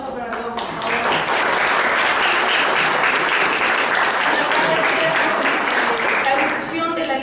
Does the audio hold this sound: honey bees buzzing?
no